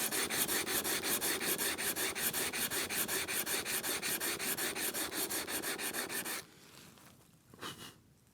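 Japanese hand plane shaving wood in fast regular strokes, about twenty close rasping passes over six seconds, then stopping, followed by a quieter scrape and faint handling noises.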